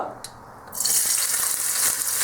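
Chopped onions drop into hot oil with curry leaves in a pan for pork dry fry, bursting into a loud, steady sizzle that fills the rest of the clip after a quieter opening.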